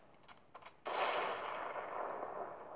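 In a video game, a sniper rifle fires one loud shot after a few faint clicks, and the report rolls out into a long, fading echo.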